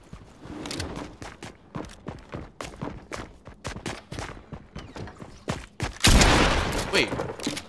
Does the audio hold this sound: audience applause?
no